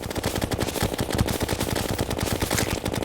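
Chlorophyte bullets fire in rapid, unbroken bursts in the Terraria video game, a dense machine-gun-like rattle of quick repeated shots across the whole moment.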